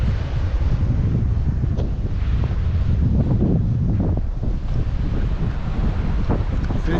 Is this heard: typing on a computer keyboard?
no